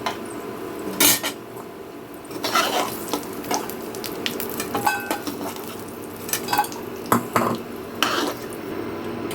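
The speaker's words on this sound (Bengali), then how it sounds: "এখন আমি এই বড়াগুলোকে তুলে নেব একটা পাত্রে" Golden-fried fritters being lifted out of hot oil into a bowl: scattered scraping clinks of a metal utensil against the pan and bowl over a steady, close sizzle of frying, in irregular bursts.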